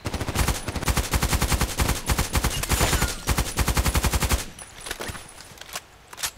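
Rapid automatic fire from an FN SCAR-L rifle in the shooter game Contract Wars, on a dark sawmill map: loud, steady bursts of evenly spaced shots for about four seconds, then a few scattered single shots and quieter game noise.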